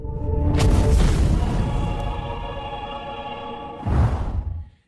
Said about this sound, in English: we are back right after this explosion